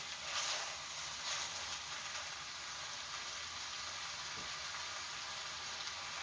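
Meat stir-frying in a pan for ttukbaegi bulgogi, giving a steady, even sizzle that stays faint and continuous throughout, with no talking.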